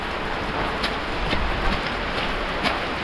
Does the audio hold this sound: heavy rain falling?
yes